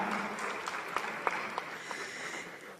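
An audience at an event applauds, a steady wash of clapping with a few sharper individual claps standing out, moderately quiet and continuing throughout.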